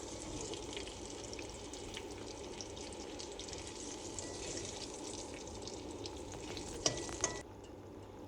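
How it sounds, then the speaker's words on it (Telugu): Eggs roasting in a kadai for a spicy egg roast give a steady, even sizzle with soft stirring scrapes, close and continuous. Two brief louder clinks stand out near the end, and no one speaks. "అంతవరకు ఒక 2 నిమిషాలు రోస్ట్ చేస్తే సరిపోతుంది"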